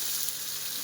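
Flat green beans (shim) hit hot oil in a pan already holding bay leaf, dried chilli and whole spices, producing a soft, steady continuous sizzle, fairly quiet and alone.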